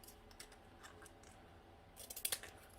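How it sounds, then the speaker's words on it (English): Scissors trim acetate tabs against score tape, a few quiet snips and clicks that grow sharper and closer near the end, alone with no talking. "I'm just going to trim the tabs off up against my 1/8 inch score tape."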